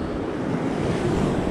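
Stormy ocean waves and strong wind buffet a fishing boat off Rhode Island, a loud continuous roar of surf with heavy wind rumble on the microphone.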